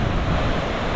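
Ocean waves wash against the shore below Tanah Lot temple, a rock-island temple on the Bali seaside, a brief, loud, continuous rushing surf mixed with gusty wind buffeting the microphone.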